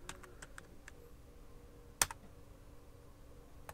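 Fast keystrokes on a computer keyboard while entering Python code, a run of light clicks early on, one sharp louder key strike midway, then quieter scattered taps over a low room hum.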